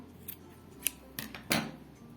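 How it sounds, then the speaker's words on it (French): Small scissors snip yarn inside a knitted penguin body made on a knitting spool, giving a few quiet, sharp clips spread over two seconds in a calm room. "on va couper le fil à l'intérieur"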